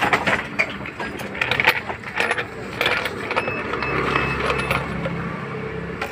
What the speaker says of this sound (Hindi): इसमें 12 का बोल्ट लगा के ये फुल टाइट करते जाने का प्लेट ऊपर ऊपर आएगी